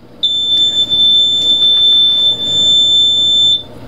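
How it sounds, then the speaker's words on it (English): A boat course-mapping system gives one steady electronic beep, a sustained high pure tone lasting about three seconds, loud and clear with no talk over it. "the system beeps"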